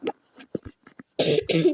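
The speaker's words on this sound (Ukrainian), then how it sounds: "Кашлю." A person coughs close by, a few short throat sounds leading into two harsh, loud bursts near the end.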